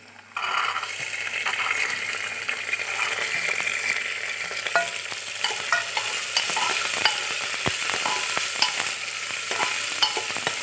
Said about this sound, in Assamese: এতিয়া মই এই পাচলিখিনি ইয়াত দি ফ্ৰাই কৰিম